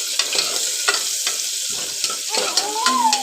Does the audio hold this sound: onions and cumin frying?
yes